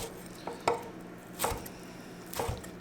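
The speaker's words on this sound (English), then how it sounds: "I'm going to chop these up" A knife chops smoked beef rib meat on a board for sliders, three or four separate thuds spaced about a second apart over a quiet background.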